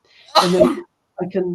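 A single sharp sneeze bursts out close and loud, followed after a short pause by a person resuming speech.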